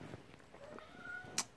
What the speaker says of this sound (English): And you hear the cat in the background.